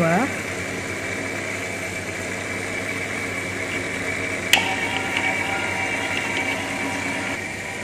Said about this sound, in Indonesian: Kemudian kita nyalakan stirrer. Selanjutnya kita nyalakan pompa 2.